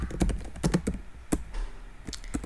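Clicky keystrokes on a computer keyboard, typed in quick irregular bursts with short pauses, close and fairly quiet.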